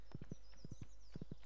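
Horse hooves clip-clop in Stardew Valley in a steady walking rhythm, clusters of soft hollow knocks repeating over a faint high tone and a low hum.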